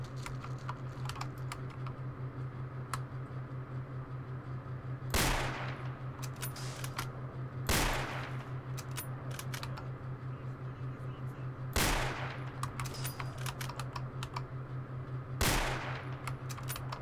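Gunfire in the video game STALKER: four loud broadband shots spaced a few seconds apart over dense rapid keyboard clatter and a steady low hum.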